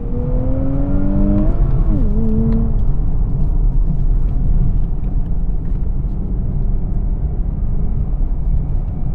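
A 2025 Nissan Z with a 7,000 RPM redline blips its engine on a downshift, a quick rising-and-falling rev in the first few seconds, then a steady loud cabin drone and road rumble.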